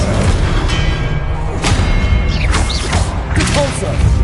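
Spell effects from Hogwarts Legacy, cast as Expelliarmus in a dense combat sequence: a steady wall of booming impacts and crashing thuds, with whooshing magical sweeps layered on top and a voice speaking over the fray.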